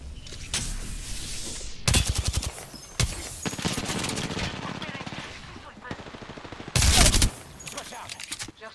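Heavy gunfire erupts in the video game Apex Legends, loud bursts of rapid automatic fire repeating in several clusters, with voices talking over the shooting.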